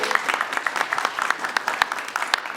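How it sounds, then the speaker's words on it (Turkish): Audience applauding the president of a chamber of agriculture at a rural outdoor event, dense steady clapping from a crowd with sharp individual claps standing out throughout. "alkışlayın bakalım başkanı bir"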